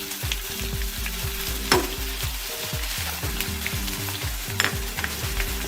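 Fried potatoes sizzle in a karahi with ginger garlic paste and green chili, a continuous crackling fry with rhythmic stirring scrapes and a couple of sharper clanks, close and unbroken by speech.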